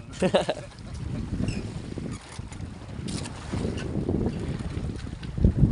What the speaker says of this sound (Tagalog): naputol lang aming bandera sa sobrang lakas ng hangin